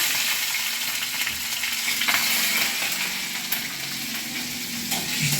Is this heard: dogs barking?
no